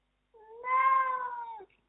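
Pet cat Mr. Jingles gives one clear, drawn-out meow indoors, rising then holding steady before cutting off, close and alone.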